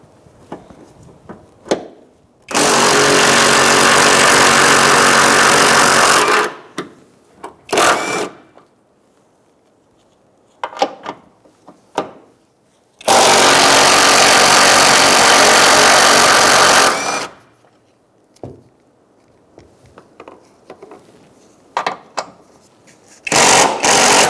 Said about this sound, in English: Now we're going to remove these three nuts using a 15mm socket.